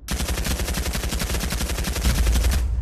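The MK2 gun in the VR shooter Pavlov fires a fast, evenly spaced automatic burst of about two dozen sharp, loud, close shots, ending with a brief heavier tail.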